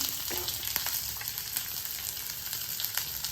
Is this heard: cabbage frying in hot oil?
yes